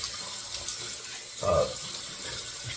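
Tap water runs steadily into a sink as a shaving razor is rinsed, a constant hiss with a brief splashy surge midway, close and fairly loud.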